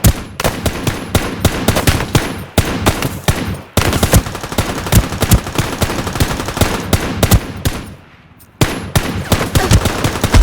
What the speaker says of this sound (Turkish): Kafana sıkıyor, sıkıyor. Arkadan sıkıyor.